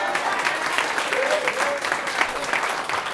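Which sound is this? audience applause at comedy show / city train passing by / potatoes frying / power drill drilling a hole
audience applause at comedy show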